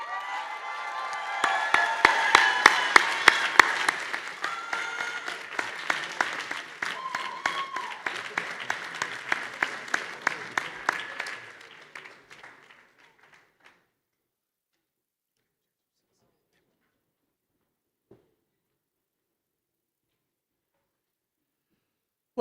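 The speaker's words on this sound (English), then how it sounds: "Let's give all the graduates one final huge round of applause." A commencement crowd at The Cooper Union applauds its graduates in a dense, sustained wave of clapping that carries for about twelve seconds, then fades out into near silence.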